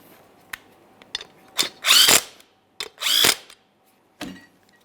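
A power tool snugs up the mounting nuts of an air suspension helper spring kit on a 2015-2020 Ford F-150. Several short bursts, two longer whirring runs among them, are heard close and loud in a quiet garage.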